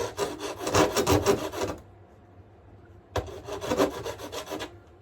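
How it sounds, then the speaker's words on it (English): A metal file scraping burrs off an etched copper clad board, two close bursts of rapid rasping strokes separated by a pause. "This is going to need a file running over it just to take the burrs off the bottom."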